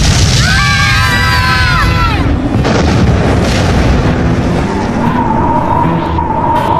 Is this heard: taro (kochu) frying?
no